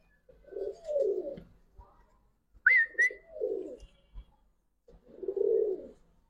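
Giribaz and coloured pigeons, a pair shown at a market, give low soft cooing calls in three bursts close by, with a brief sharp chirp in the middle and no talk.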